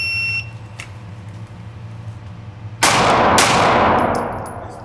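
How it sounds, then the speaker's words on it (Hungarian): Two pistol shots fired at a paper target during a timed shooting drill, landing as two loud, sharp reports in quick succession with ringing decay, following quieter background hum and a faint beep. "és 2 lövés a papírra."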